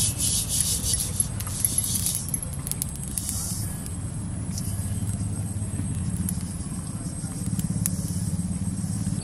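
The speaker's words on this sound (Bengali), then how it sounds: "তিল আর পোস্ত বেটে নেব" Sesame and poppy seeds are ground into a paste with a steady, coarse rubbing and scraping that repeats throughout, close and moderately loud, with faint sharp clicks at the start.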